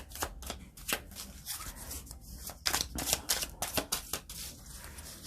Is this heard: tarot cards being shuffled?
yes